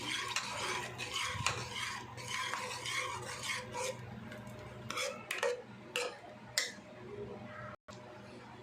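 Cooked gangavayala greens and dal are mashed in a pot with a masher, giving repeated soft scraping and clinking knocks against the metal, fairly close and quiet with faint room noise.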